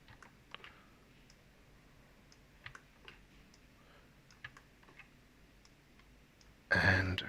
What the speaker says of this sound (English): Just holding down the button and clicking and dragging.